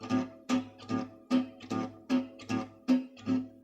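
Acoustic guitar accompaniment strummed in a steady, even rhythm, with light upstrokes barely catching the bottom strings between the main strokes; clear, close and unaccompanied by talk.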